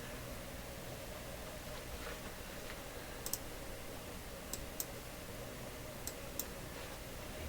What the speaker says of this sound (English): Gentle sound of my mouse clicking